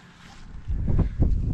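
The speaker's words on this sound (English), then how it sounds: "It's a little windy out here." Gusts of wind buffet the microphone, building from a low rumble into heavy, uneven blasts near the end.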